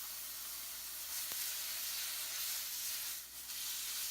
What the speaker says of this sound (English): After hearing a sizzling sound, add some of the prepared sugar and soy sauce.